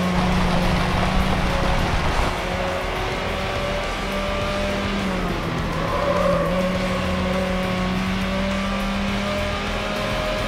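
A light blue Lotus Elise races in the Need for Speed Hot Pursuit 2 video game, its engine droning steadily at high revs with shifting pitch and brief tire squeals, loud and continuous throughout.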